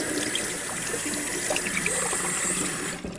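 Water from a kitchen tap runs steadily over a utensil being rinsed at the sink, a continuous close hiss and splash that cuts off abruptly at the end.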